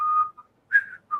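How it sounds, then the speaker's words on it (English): A person whistles a western-style tune in the manner of a Clint Eastwood film score: clear, sliding tones in three short phrases separated by brief silences, close and alone. "you hear the music like Clint Eastwood does with that whistle in the background"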